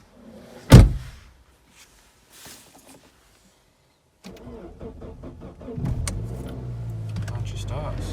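Saab 9-3 car door slammed shut with a single sharp thud, followed by quiet cabin sounds and then a low mechanical hum as the ignition starts up; a voice is heard briefly.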